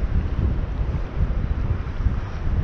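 Strong wind buffets the microphone at the Capilano River estuary, a continuous loud low rumble with gusty swells and no voices.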